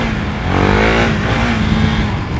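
A Husqvarna Vitpilen 701 single-cylinder motorcycle revs up on a road ride, its engine note rising in pitch, then holding at a loud, close drone.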